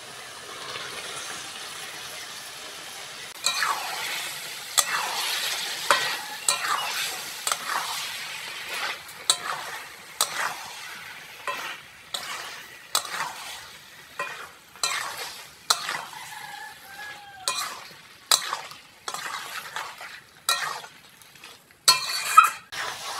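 Boiled potatoes and jackfruit being sautéed in a pot: steady stirring scrapes and spoon knocks over a soft frying sizzle, close and moderately loud, with irregular rhythmic strokes and no talking.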